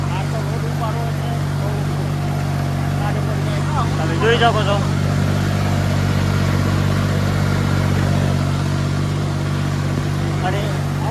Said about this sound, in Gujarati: અને અવાજ તો આવતો હોય છે ટ્રેક્ટરનો